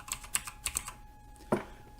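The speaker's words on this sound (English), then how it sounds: "if you type in jetways again," Typing on a computer keyboard at a desk while setting up an autogate in X-Plane 11, a handful of sharp separate key clicks followed by one louder keystroke, close and alone.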